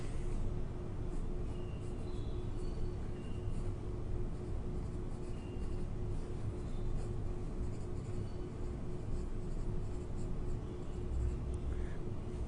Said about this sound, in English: So I'm going to write that down on my notes.